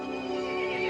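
A horse creature in Resident Evil Village gives a single short neigh, fairly faint, with a bright tonal whinny over a low background and no talk.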